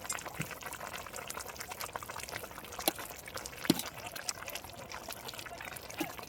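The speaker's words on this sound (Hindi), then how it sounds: "अब यहाँ पर इसे हम ढक देंगे और ढक के इसे 7 से 8 मिनट तेजी आंच पे हम बॉईल कर लेंगे।" Jackfruit pieces boiling hard in salted turmeric water under a lid, a steady bubbling and spitting simmer with occasional louder pops.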